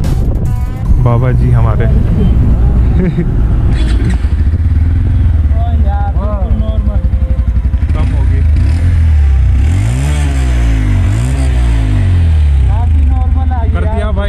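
A Bajaj Pulsar 180 motorcycle fitted with an Akrapovic exhaust idles and revs loudly up close, its engine note rising and falling in several blips while people talk nearby.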